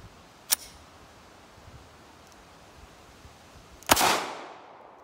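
A Glock 48 pistol is fired outdoors at a tree branch, two sharp shots about three seconds apart, the second louder with a brief echoing tail, over faint background hiss.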